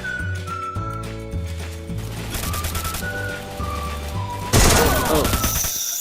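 Rapid gunfire bursts in the mobile battle royale game Free Fire, a dense rattling volley over game music and effects, ending in a louder burst of shots near the close.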